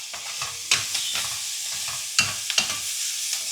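Washed bitter gourd pieces tipped into a hot pan, a continuous hiss of frying with several crisp clacks and scrapes of a spatula spaced through it.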